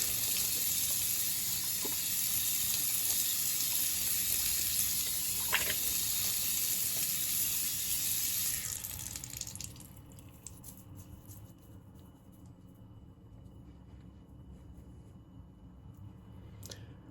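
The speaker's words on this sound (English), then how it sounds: "I'm gonna switch over to cold water real quick." Tap water runs steadily into a sink while a sponge is rinsed during slate sharpening, a loud broadband rush for about nine seconds before the flow drops to a quieter trickle and hiss.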